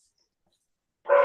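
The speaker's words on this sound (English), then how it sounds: "I want to apologize for the dog barking in the background." A dog barks in the background during a live online broadcast: a single burst enters near the end after near silence, moderately loud and somewhat distant, with no talk over it.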